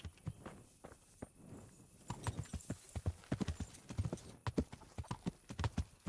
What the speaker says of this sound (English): I'm just gonna call my horse real quick